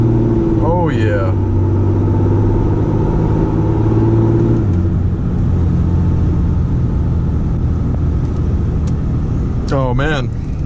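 A 6.7 Cummins diesel pickup truck pulls hard with a loud, close engine drone, and the pitch drops at a gear shift midway. Rising sweeps near the start and end may be voices or whistles inside the cab, and someone speaks over it.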